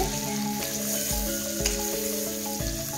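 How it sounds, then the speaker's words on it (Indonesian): One large onion sautéing in a pan for Solo-style selat, a steady sizzle and fry with a few soft stir knocks, close and continuous with no talk. "Kemudian kita tumis bawang bombay."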